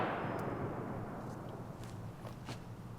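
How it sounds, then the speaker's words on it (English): An AK rifle firing a live round that sat submerged in water for a month: a single loud outdoor crack at the very start that decays away, followed by faint clicks and rustles. "All right, the AK fired and ejected, and there is the spent shell casing"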